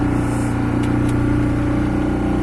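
The engine of a Kelt 620 sailboat drones steadily and fairly loud while under way near Collioure, holding an even pitch from start to finish.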